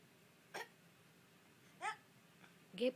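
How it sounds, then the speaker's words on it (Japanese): A young child burps after eating: three short, soft bursts spaced about a second apart in a quiet room, the last one slightly stronger. "ゲップした。 お腹いっぱいだからゲップするんだよ。"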